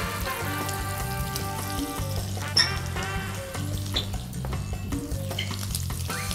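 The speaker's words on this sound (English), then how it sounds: "The butter is browning, which is gonna give the nice toasty flavor." Butter browning in a hot pan for filet au poivre, a steady crackling sizzle close by with a low humming tone underneath and a few clinks, no speech.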